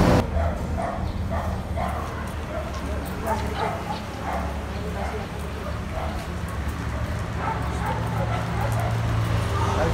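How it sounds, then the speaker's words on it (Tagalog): Dog barking and yipping outdoors in a Laguna neighborhood, repeated barks at moderate distance mixed with a whimper, under steady background noise and people talking. "may aso yata dun, baka hindi kaya tayo kagatin dun"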